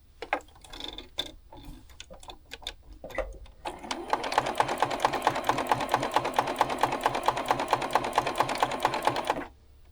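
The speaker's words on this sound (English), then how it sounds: "So I'm just going to start right here on the bottom. Start sewing" A sewing machine chain pieces quilt blocks, opening with a few short, separate stitch bursts, then settling into a loud, fast, steady run of rhythmic clacking that stops abruptly near the end.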